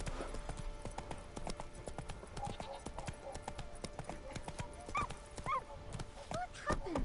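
Roach the horse gallops in The Witcher video game, with rapid, rhythmic hoof clip-clops close up, occasional snorts, and someone talking over it.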